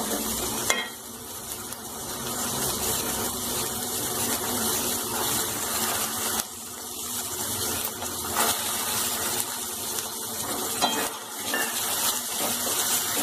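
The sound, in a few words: vegetables being sautéed in oil in a pan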